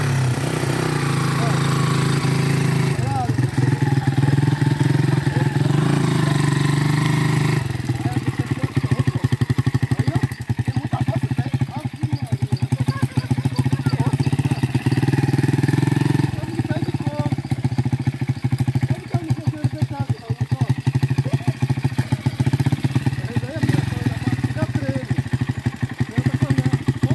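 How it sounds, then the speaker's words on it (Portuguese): A motorcycle idles close by, its engine and exhaust giving a steady, rough, loud rumble with a clattering pulse throughout. "Olha a descarga dessa moto, galera."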